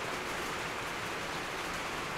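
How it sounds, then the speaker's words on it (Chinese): Heavy rain pours in Monster Hunter World: Iceborne, a dense, steady, loud hiss of downpour filling the whole moment without a break, with no voices over it. "对啊，声音太大了，雨声太大了。"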